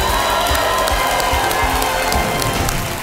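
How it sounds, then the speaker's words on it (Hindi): A studio audience at a television quiz show (Kaun Banega Crorepati) breaks into loud, sustained applause, thick and rain-like, with some cheering mixed in before it eases slightly at the end. "ताली बज जाए।"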